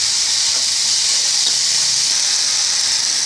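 A pan of onions and seasoning with turmeric powder sautéing for a coconut milk gravy, giving a steady loud hiss and sizzle that runs unbroken throughout, with no voices.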